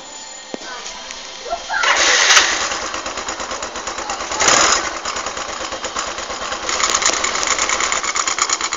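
A 2011 Yamaha Mio automatic scooter engine cranks and catches, then settles into a steady, buzzing idle with a few throttle blips, close by.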